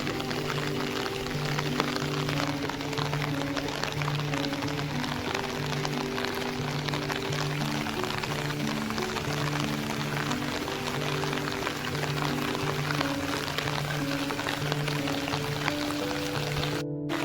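Loud, steady rush of a flooded river after heavy rain in the Konkan, a dense broadband roar running unbroken throughout with no voices over it.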